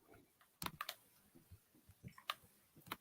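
Soft, irregular keystrokes on a computer keyboard, scattered clicks in short bursts at close range with quiet room noise between them and no voices.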